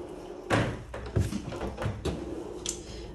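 A white sliding kitchen door with a few paint chips is pushed open, giving several dull knocks and rolling thuds spread across a few seconds in a quiet room.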